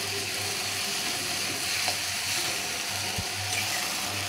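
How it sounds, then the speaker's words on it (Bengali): Spice paste of ground ginger, garlic, chili, cumin and coriander sizzles steadily in a pan, a continuous moderate frying hiss with a faint scrape or two and no voices. "খুব ভালো করে আমি এরপরে কষিয়ে নিচ্ছি।"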